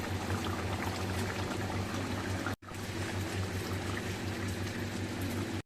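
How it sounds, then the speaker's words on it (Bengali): Pieces of ribbonfish go into a pot of boiling curry broth made with aubergine and potato, giving a steady bubbling, pouring-like liquid wash that stays loud and continuous apart from one brief silent cut. "এবার আমি এই মাছগুলো দিয়ে দেবো।"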